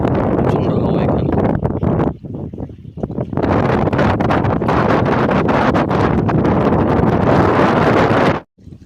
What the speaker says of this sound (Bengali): প্রচন্ড হাওয়া এখানে